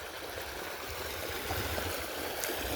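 Irrigation water runs along a furrow into an aubergine field, a faint, steady trickling and gurgling flow heard outdoors with no voices.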